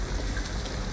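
Steady rain pours down in the game Detroit: Become Human, a dense, even hiss of drops on surfaces with no voices over it.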